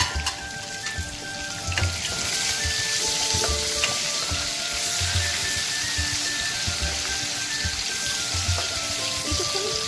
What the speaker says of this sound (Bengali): এবার আমি কুচনো পেঁয়াজটা অ্যাড করে দেবো এবং কিছুক্ষণের জন্য ফ্রাই করে নেব।